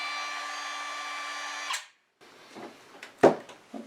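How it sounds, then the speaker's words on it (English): Battery trim router whining steadily while cutting wood for a scroll-saw floral vase project, then cutting off abruptly and spinning down to silence, followed by scattered clunks and handling knocks nearby. "One of the things I like about that trim router is the battery version shuts off immediately."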